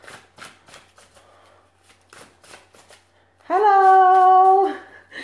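A deck of oracle cards is shuffled by hand during an evening mediumship session, a run of quick papery riffles and taps, followed by a sustained tonal hum near the end.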